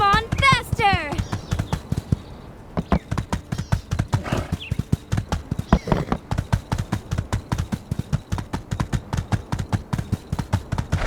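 Horse gallops at a fast, steady rhythm in the video game My Time at Sandrock, hoofbeats loud and continuous throughout, with a whinny at the start and a rider's voice calling over it.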